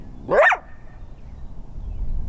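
A trapped coyote lets out one sharp, loud bark up close, followed by low background rumble and quiet.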